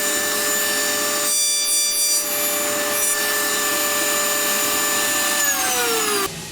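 A router bit spinning in a router table cutting timber for dovetails, a loud continuous high whine with steady tonal harmonics, then the motor pitch drops as it spins down at the end.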